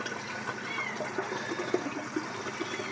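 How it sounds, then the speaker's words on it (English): Water trickles and gurgles as it refills the bowl of a vintage forward trap toilet, a faint, steady wash heard close up with small bubbling splashes. "Let's let some more water into the bowl real fast here."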